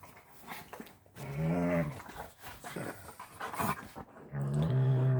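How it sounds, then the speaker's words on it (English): Dogs play-fighting on a bed, with heavy panting, rumbling growls and whiny vocal bursts, close and continuous, with no speech. "Killer dog fight."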